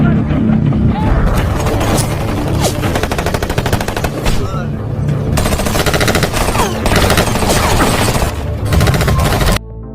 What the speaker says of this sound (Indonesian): John pun datang dan terlibat baku tembak sengit dengan pasukan tentara